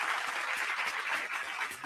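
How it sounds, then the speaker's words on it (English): A crowd at a party radio show claps in a continuous, moderately quiet round of applause, with a slight dip near the end. "give yourselves a round of applause."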